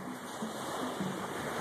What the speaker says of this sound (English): Let me show you the ocean.